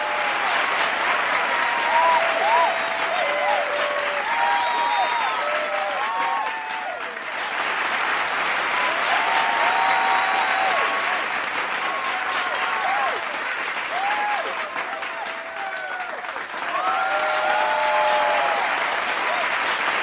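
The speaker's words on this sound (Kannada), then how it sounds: "ಮೊದಲನೇದಾಗಿ ಒಂದು ದೊಡ್ಡ ಚಪ್ಪಾಳೆ" A crowd at an award ceremony applauds H.N. Dharmendra receiving the Daksha Seva Ratna award. The full applause holds loud and steady for about twenty seconds, dipping slightly twice, with voices calling out over it.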